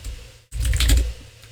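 C code is being typed on a computer keyboard in a quick close burst of clicking keystrokes, after a brief silent gap, with no talk.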